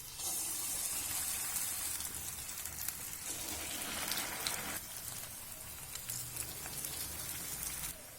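Bonda batter balls fry in hot oil in a home kitchen, a dense, steady crackling sizzle like rain, continuous and fairly close, with no voices.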